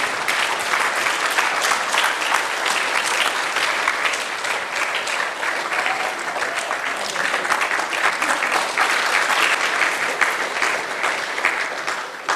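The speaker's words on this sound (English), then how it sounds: "Let us have a big claps." An audience at a Bhagavad Gita exam ceremony gives a long, even round of clapping, dense and steady for about twelve seconds before tapering at the end.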